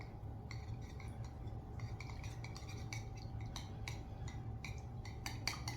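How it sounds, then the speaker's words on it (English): Small whisk stirring a peanut butter and jelly mixture with cider vinegar in a bowl, a steady run of quick light clinks and scrapes against the side, close up, alone without talk. "We're gonna whisk this up."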